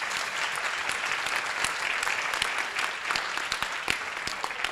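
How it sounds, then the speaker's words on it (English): A conference audience applauds panelists after a session on digital jobs, giving a sustained, steady round of clapping with some sharper individual claps standing out. "Roaring applause before we break up for lunch,"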